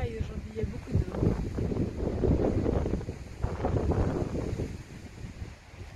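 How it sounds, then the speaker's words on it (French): Strong wind gusting outdoors on a hiking trail, buffeting the microphone with a loud low rumble that rises and falls throughout. "Ça caille aujourd'hui, il y a beaucoup de vent."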